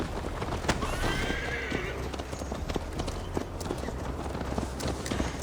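Horse in Assassin's Creed Valhalla whinnies once, then gallops off with rapid hoofbeats clattering over a steady rumble, close and loud throughout.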